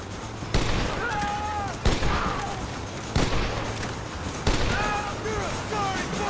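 Four separate gunshots boom in a Red Dead Redemption shootout, spaced about a second apart, while shouted voices sound between them over a low rumbling background.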